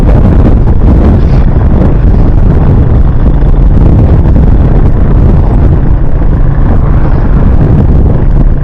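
Heavy wind roar buffets the microphone during a night motorbike ride through Arusha, Tanzania, a loud, constant low rumble of air and engine with no voices over it.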